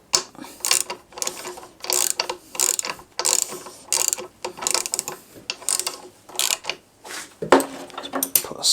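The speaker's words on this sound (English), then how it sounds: "Put a spanner this end just to make sure it's all locked up." A spanner tightens an M6 nylock nut with rapid repeated ratcheting clicks in short bursts, close and fairly loud, with brief pauses between strokes.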